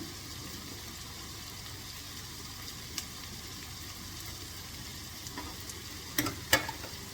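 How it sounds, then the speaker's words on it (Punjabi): Garlic and onion sizzle quietly and steadily in a pan for baingan bharta, a dhaba-style Punjabi dish, with a few faint clinks of stirring near the end and no voices. "ਲਸਣ ਪਾ ਦੇਣਾ ਇਹ ਨਾਲ ਹੀ ਭੁੱਜ ਜਾਂਦਾ ਹੁੰਦਾ"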